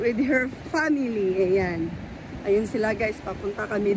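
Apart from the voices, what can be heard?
None of the usual background noises is heard.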